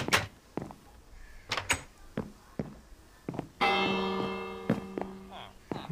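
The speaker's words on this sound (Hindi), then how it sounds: "घंटी भी" A single bell rings clearly and fades out slowly inside a jungle temple in a video game, set among sharp clicks and thuds.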